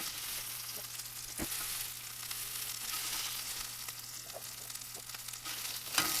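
Rack of lamb searing in a pan over medium-high heat, a loud, continuous close sizzle with a brief knock or two as the meat shifts, no talking.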